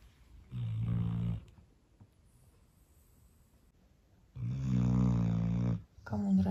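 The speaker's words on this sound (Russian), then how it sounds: "Вот такие храпушечки сейчас рядом." A man sleeping after a New Year's night out snores nearby in two long, loud drawn-out breaths separated by a quiet pause, with a third beginning at the end; no one talks.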